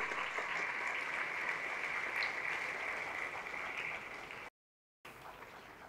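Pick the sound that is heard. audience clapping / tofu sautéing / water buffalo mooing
audience clapping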